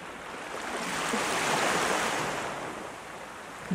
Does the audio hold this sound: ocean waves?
yes